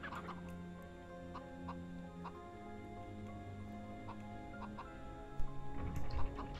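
Chickens from the PlayStation game MediEvil cluck and gobble in short repeated bursts over a steady musical game soundtrack, with a louder cluster of calls near the end.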